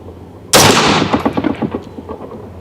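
A single sharp, loud shot from a 450 Bushmaster rifle with a muzzle brake, fired nearby, followed by rolling echoes that fade over two seconds outdoors.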